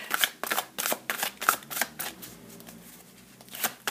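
Tarot cards handled on a table, the seven of cups flipping over, give a run of crisp papery flicks and slides, a dozen or so short bursts close by with quieter pauses between.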